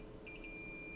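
A multimeter continuity tester gives three short, evenly spaced beeps while probing the backlight filter circuit on an iPhone 6s logic board. The beeps are faint and heard over a steady background hum with no talking.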